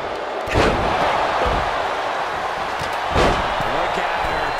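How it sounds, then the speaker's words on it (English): A wrestler slams hard into the barricade during a women's wrestling match, giving two heavy booming impacts over a constant roar of the arena crowd. "did you hear the impact? Oh, man, meeting the barricade"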